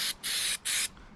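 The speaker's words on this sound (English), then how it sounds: "So I like to just give everything a little bit of a spray there." Solvent is sprayed onto an AK-47 rifle in three quick, close hissing bursts separated by brief pauses.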